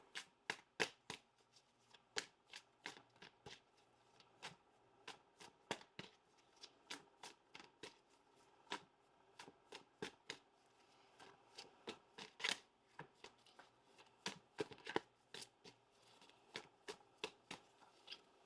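A deck of angel cards being shuffled close by for a reading, giving off dozens of quick, crisp riffling snaps in an irregular but steady rhythm, with no talking.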